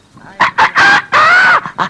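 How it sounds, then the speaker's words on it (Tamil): A rooster crows in several short, loud bursts with brief gaps, close by, with some background noise. "இது சேவல்"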